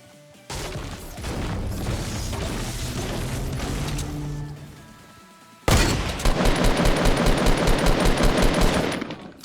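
Gunfire in Fortnite: a long, dense stretch of shooting that fades out, followed by a sudden louder burst of fast rhythmic automatic fire close up.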